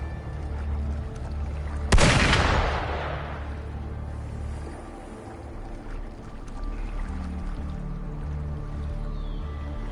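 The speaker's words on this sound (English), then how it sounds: "Gunfire! We've got intruders." A single loud gunshot in the video game Wuthering Waves cracks out, its boom decaying over a second or two into a low, steady ambient rumble.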